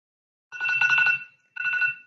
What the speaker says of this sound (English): Oh, there's the buzzer.